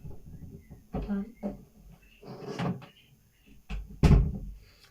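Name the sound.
closing a room door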